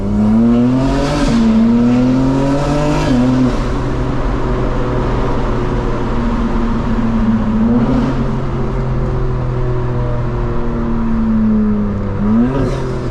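A 2025 BMW M4 Competition engine revs repeatedly in a tunnel, loud and close, with sharp throttle blips and pitch drops between gear changes over a continuous roaring drone.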